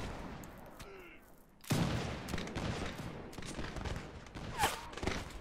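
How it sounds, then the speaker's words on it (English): Musket volleys in Mount & Blade with a Napoleonic-era mod, a sudden burst of crackling gunfire followed by scattered shots and loud reports nearby, continuing for several seconds. "Oh god, they're shooting at me."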